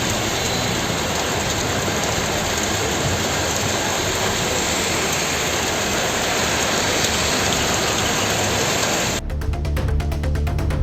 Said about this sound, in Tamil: ஈரோடு மற்றும் அதன் சுற்றுவட்டார பகுதிகளில் 1 மணி நேரத்திற்கு மேலாக கனமழை கொட்டி தீர்த்தது.